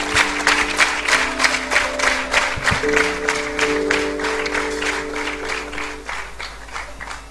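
Applause from a congregation at a choir album launch, steady rhythmic clapping in unison with a sustained sung or organ tone behind it, gradually easing off.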